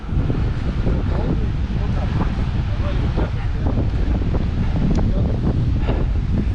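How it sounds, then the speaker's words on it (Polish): Strong wind sweeps across a beach on the Curonian Spit in Lithuania, roaring constantly and loudly into the microphone, with a low rumble and gusty buffeting throughout. "strasznie wieje"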